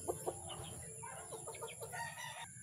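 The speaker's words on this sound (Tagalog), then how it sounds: "Ayan yung isa ko tandang, ayan." A farm rooster clucks softly and repeatedly, a series of short, close calls over faint steady background noise.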